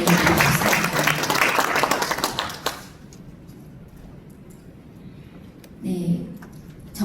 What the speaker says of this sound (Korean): 다시 한번 큰 박수로 감사의 마음을 보내드리고 싶습니다.